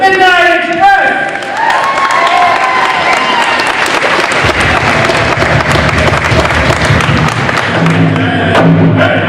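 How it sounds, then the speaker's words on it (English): A crowd applauds and cheers for a championship team, Midnight Express, at a Wounded Knee anniversary gathering; dense clapping swells and holds steady under voices, with thuds and a low rumble joining midway. "Let's give a big round of applause to Midnight Express!"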